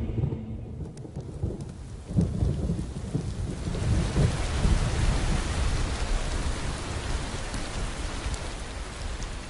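A thunderstorm sweeps over the Serengeti plains, with low rumbling thunder under steady heavy rain that grows denser and louder after the first few seconds and then holds as a constant hiss.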